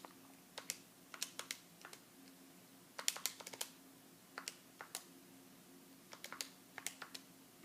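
Numbers typed on a computer keyboard, quick close clicking keystrokes in short irregular bursts separated by brief pauses, quiet and alone.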